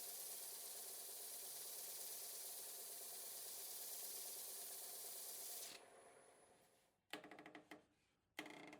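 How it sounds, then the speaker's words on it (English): Sandpaper of 180 grit rubs steadily against a green-turned maple bowl spinning on a lathe, a continuous broadband hiss lasting several seconds before it stops, followed by a few scattered louder rubbing bursts. "Sanding with 180 grit."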